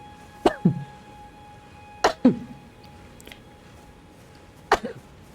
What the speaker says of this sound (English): Felt the sneeze coming on